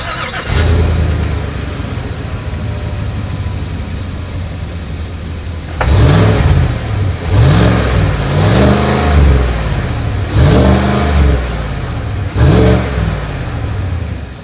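A 2020 Cadillac Escalade SUV with a single exhaust outlet idles with a low rumble, then gets revved in five loud, close bursts, each climbing in pitch and falling back to idle.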